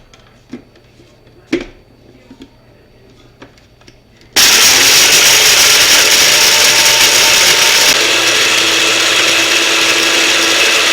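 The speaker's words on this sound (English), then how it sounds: "I'm going to be taking these to a blender and I'm going to crush them into a fine powder" A countertop blender grinds crisp dried lemon into a fine powder for lemon pepper seasoning. After a few quiet seconds with faint clinks, a loud, steady, roaring whir starts abruptly and runs unbroken to the end.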